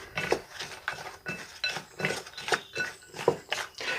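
A wooden spatula mixes brownie batter in a bowl, giving repeated scraping strokes with light clinks against the bowl in a steady, roughly twice-per-second rhythm, close and moderately quiet, with no talk.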